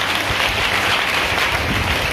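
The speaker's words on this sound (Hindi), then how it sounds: "ताली बजा के प्रभु का नाम लो" A congregation at a Hindi church service claps together while praising the Lord, loud dense rhythmic clapping close by that fills the moment.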